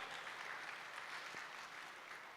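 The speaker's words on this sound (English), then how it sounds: "Clap for NOBO, all of you." Audience clapping at a retail talk in Hyderabad, a steady wash of many hands sustained throughout, moderately distant and even in level with no break.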